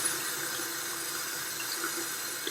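Tap water runs steadily over a makeup brush during rinsing at a sink, a soft continuous hiss and trickle heard alone with no talk.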